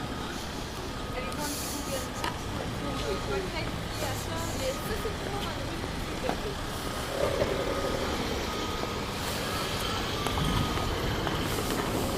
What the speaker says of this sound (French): un autre des minibus de l'anti-émeute qui est en train de s'installer au coin de Laval et Prince-Arthur